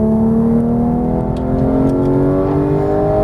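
A Porsche GT3 on a race track in Las Vegas holds a loud, close engine note that climbs steadily in pitch as it accelerates hard, a smooth rising howl with no talk over it.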